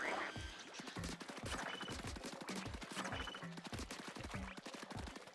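Shooting in Splatoon Raiders, a regular rhythmic stream of soft, punchy shots in steady repeated bursts, fairly quiet with no talk.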